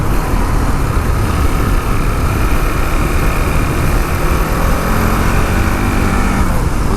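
A KTM 701 Enduro motorcycle engine drones steadily and loudly at constant revs while riding, a dense unbroken buzz with no talking.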